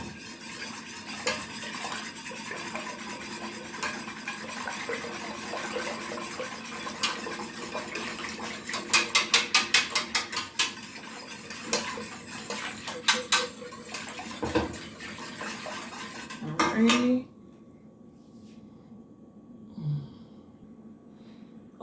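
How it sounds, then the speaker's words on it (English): A hand whisk beats a coquito mixture of coconut milk, cinnamon and vanilla in a bowl, scraping and clinking in quick rhythmic runs before a few final taps and silence. "So I'm going to use this whisk and just make sure everything gets mixed up"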